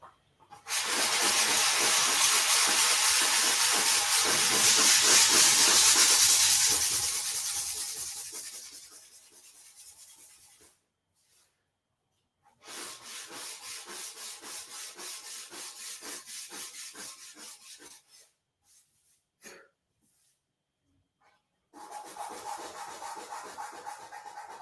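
Sandpaper of 180 grit rubs back and forth across a metal motorcycle fuel tank in close, rasping strokes, one long burst followed by shorter bouts separated by silent pauses, with no talk.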